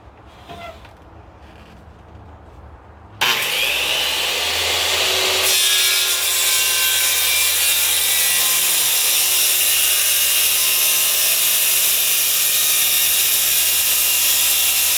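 A power saw cutting through an Oregon white oak slab for a luge rudder, starting abruptly after a quiet moment and then grinding on loud and steady, close by, with no talk.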